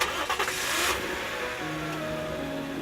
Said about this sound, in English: In the moments, the sound of the engine reverberated in the interior.